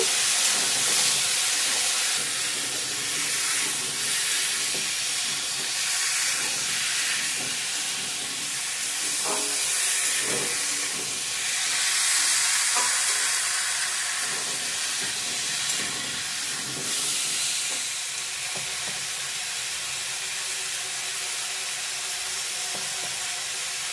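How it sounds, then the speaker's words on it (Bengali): Onions, tomatoes and chopped vegetables fry in a pan with a loud, broad hissing sizzle that runs steadily throughout, with faint scraping stirs underneath. "টমেটো, কেটে রাখা সবজিগুলো দিয়ে দেবো। ভালো করে ভেজে নেব।"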